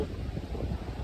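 Strong wind by the sea buffets the microphone in a brief, close, low roar, with a dull rumble that may be surf underneath.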